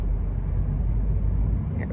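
Steady low rumble of late-afternoon rush-hour road traffic heard from inside a moving car, a constant muffled drone with no voices.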